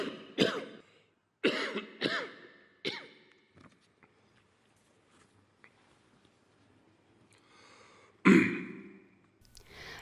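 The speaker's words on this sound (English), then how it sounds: "his boring speech made less of an impression on people compared to his frequent coughs and long pauses during the speech" Several throaty coughs and throat clearings come in short bursts with long quiet pauses between them during a formal televised speech, with a final louder cough near the end; no words are spoken.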